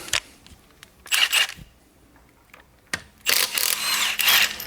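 Wheel lock bolts being loosened and removed from a Porsche 718 GT4: short metallic ratcheting and clicking bursts, close and fairly loud, separated by quiet gaps, with a longer rattling stretch near the end and no talk.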